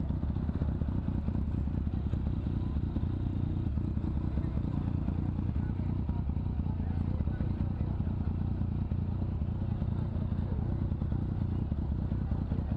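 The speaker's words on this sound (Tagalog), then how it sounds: "Grabe, ang dami dito ng motor, iba't ibang klase." Many motorcycles of different kinds idle and rumble along a busy city street at a night bike meet, a continuous low engine drone with clatter and crowd noise underneath.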